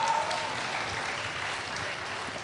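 Applause from a convention audience at BlizzCon 2009 fills the room, a dense, steady wash of clapping that stays loud and even from start to finish.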